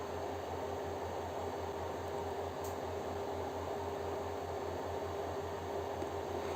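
The two 40×10 cooling fans on a Twotrees Sapphire Plus 3D printer run continuously, making a faint, steady airy whir with a low hum underneath and no voices.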